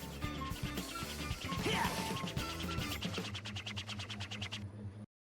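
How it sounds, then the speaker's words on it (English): A busy, clattering game sound effect with crashes and mechanical whirring, ending in a rapid repeating ticking loop that abruptly cuts off. "I love how Tails' sound effect just keeps on going well into the load screen"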